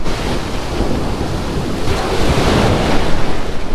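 Sea waves roar on Bakkhali beach, a loud, continuous wash of surf with wind buffeting the microphone, swelling slightly toward the end.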